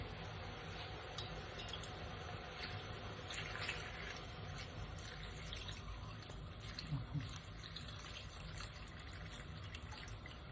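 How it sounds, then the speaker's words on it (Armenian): Roughly half a litre to a litre of water is poured into a steaming cooking pot of vegetables, a faint, continuous trickling splash heard quietly throughout with no talk. "Հիմա ջուրը լցնում ենք"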